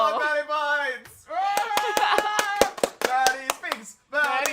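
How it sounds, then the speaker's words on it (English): A steady run of about ten sharp hand claps beats in an even rhythm beneath a continuous, animated voice, close and moderately loud. "Applaud Maddie Bites."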